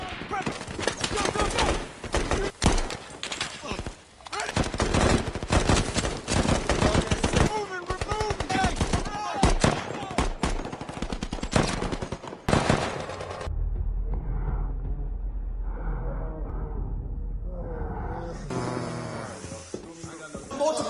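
Dense bursts of automatic rifle and machine-gun fire crack through an Iraq war street battle, loud and sustained, then drop away to quieter rumbling before another short burst at the end.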